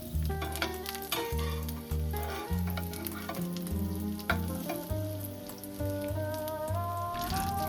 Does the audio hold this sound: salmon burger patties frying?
yes